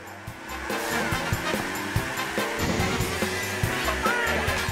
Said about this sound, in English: Perfect drift